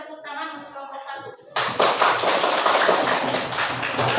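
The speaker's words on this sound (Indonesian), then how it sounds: "Silakan tepuk tangan untuk kelompok 1" A classroom of students claps for a group after a brief voice, breaking into loud, dense, scattered hand clapping that continues to the end.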